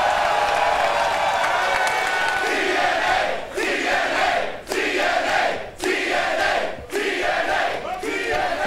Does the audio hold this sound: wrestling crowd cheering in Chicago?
yes